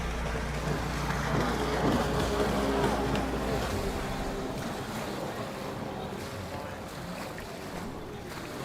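Pro-Am Ski 4-stroke class personal watercraft roar past in a race, a loud engine drone mixed with spray and wind noise that slowly fades as the craft pull away.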